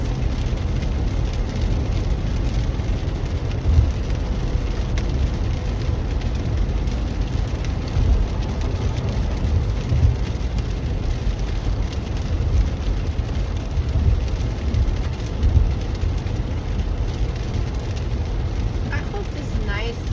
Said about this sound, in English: Raining sounds